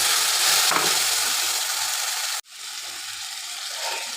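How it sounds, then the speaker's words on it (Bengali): Spice paste hits hot oil with browned onions in a wok for a cabbage curry with fish roe, giving a loud steady sizzle that breaks off abruptly midway and then resumes a little quieter, with no talking. "এবার আমি দিয়ে দিচ্ছি ওই মশলার পেস্টটা"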